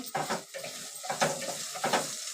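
Potatoes for sabudana khichdi cook in a covered pan on low heat and are stirred: three distinct scraping strokes rise over a soft sizzle, close and fairly quiet.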